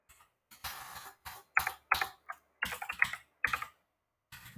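Keys clatter on a computer keyboard as code is typed, close and crisp in short irregular bursts separated by brief silences, with no talking.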